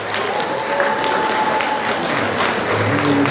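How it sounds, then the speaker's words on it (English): Gala audience applauding an award honoree at a Jamaica 60 Diamond Jubilee celebration: loud, sustained clapping from a large crowd with faint background music tones running through it. "please, a round of applause for our first honoree of the evening"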